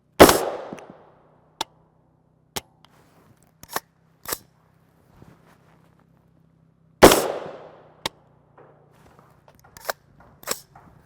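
A 300 Blackout rifle with a suppressor fires subsonic rounds as two sharp, close, muffled cracks several seconds apart, each followed by lighter metallic clicks and clinks of the action.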